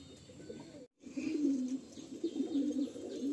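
Madras pigeons, a breeding pair kept by a tournament flyer, cooing in low, steady rolling calls, close and moderately loud after a brief gap of near silence.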